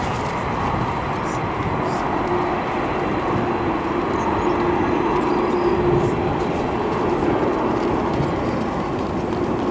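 Atlas Air Boeing 747 airliner, all white, at O'Hare airport: a steady, broad engine roar that holds at an even loudness throughout, with no talk in the foreground.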